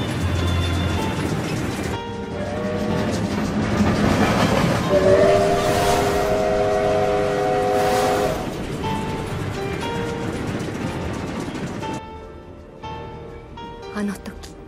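A train rumbles along the rails with rhythmic clatter, a sustained whistle or horn sounding midway, and a voice speaking over the noise.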